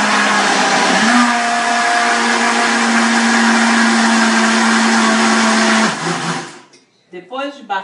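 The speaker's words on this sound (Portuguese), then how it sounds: "a gente vai colocar... Tudinho no liquidificador" A blender whirs loudly and steadily for several seconds blending cooked cabotiá pumpkin, its pitch rising as it speeds up, then cuts off, followed by brief talking.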